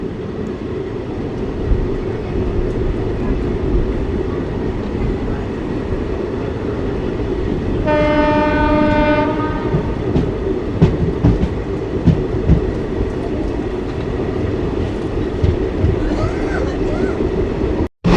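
A passenger train on the Moga to Haridwar route rolls through Baddowal station without stopping, heard from inside as a loud steady rumble with rhythmic wheel clatter and a sustained horn blast midway; someone talks over it.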